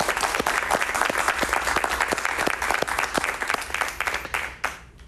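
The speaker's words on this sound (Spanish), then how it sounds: "Un aplauso para ellas, por favor." Studio audience applauding steadily for two young actresses on a Spanish-language talk show, dense clapping throughout with no talk, tapering near the end.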